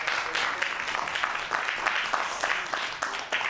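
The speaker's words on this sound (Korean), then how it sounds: "큰 박수 보내주시기 바랍니다" A studio audience applauds after a lecture on a Korean TV talk show, a dense, steady wash of clapping that carries through the whole stretch with no break.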